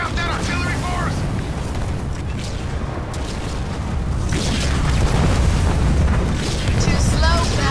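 Heavy booms and rumbling blasts from artillery in the Halo Wars 2 battle, a dense continuous barrage with constant low roar, with voices calling out over the fighting.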